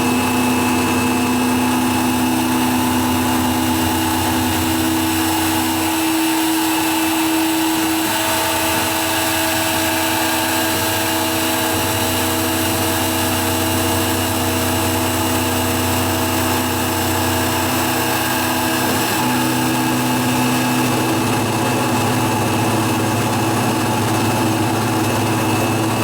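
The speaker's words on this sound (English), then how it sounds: "We're milling the standoff." Milling machine cutting an aluminum standoff in a home shop, a steady loud motor drone with a higher cutting whine that shifts slightly partway through, continuous and without speech.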